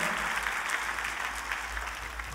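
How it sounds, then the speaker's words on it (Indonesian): A church congregation applauds in praise during a worship service, steady dense clapping filling the room evenly for a couple of seconds, close and moderately loud with no voices over it. "Kita kasih tepuk tangan yuk yang meriah buat Tuhan kita."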